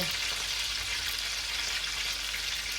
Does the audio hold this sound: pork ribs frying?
yes